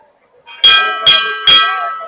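Three ringing strikes of a temple bell at the Sammakka Sarakka shrine during Medaram Jatara, evenly spaced and close, each bright metallic clang decaying into a sustained hum before the next.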